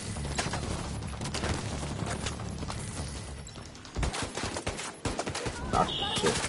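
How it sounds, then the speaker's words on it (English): Dense game gunfire from a firefight in The Division 2, with bursts of automatic fire and shots layered continuously and loudly throughout, growing choppier toward the end. "Stop shooting me."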